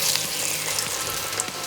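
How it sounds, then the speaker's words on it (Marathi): Batter-coated potato slices for spicy Maharashtrian bhaji frying in hot oil, giving a steady, dense sizzle with soft crackles throughout, no voices. "त्याच्यामध्ये आता आपण बटाट्याचे स्लाईस व्यवस्थित पिठामध्ये कोट करून सोडून देऊया"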